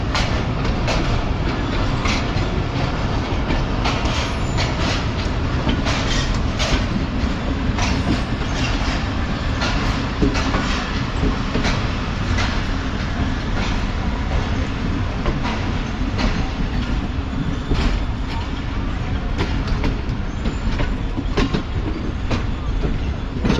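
The Thal Express, a passenger train, runs on the rails with a loud, steady rumble and rhythmic wheel clatter heard from on board, continuous for the whole stretch.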